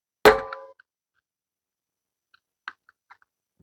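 A screwdriver scrapes and clanks against a timer at close range: one loud metallic clang at the start, then a few faint scattered clicks and taps over near silence.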